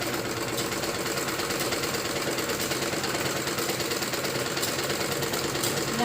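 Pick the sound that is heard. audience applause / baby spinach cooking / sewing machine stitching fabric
sewing machine stitching fabric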